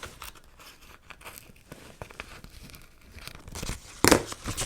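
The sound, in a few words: cutting out paper for a planner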